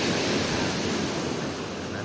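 Ocean waves wash onto the shore at Dreamland beach, a steady loud rush of surf and wind with no pause.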